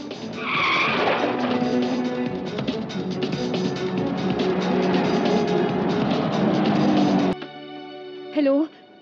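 A getaway car tears off with skidding, squealing tires during a kidnapping chase, loud and continuous for several seconds before cutting to quieter sound.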